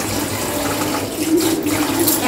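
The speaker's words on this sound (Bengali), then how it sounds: "এবার দেখো সবজিগুলো খুব ভালো করে ধুয়ে নেবো।" Vegetables are washed under a running tap, a close, steady gush of water spattering into a sink, loud and continuous with slight shifts as the produce moves through the stream, no speech.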